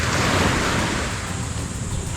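Sea waves along the shore at Pagbilao, Quezon, heard as a continuous broadband wash of surf, steady and moderately loud, with wind-like rumble and no voices.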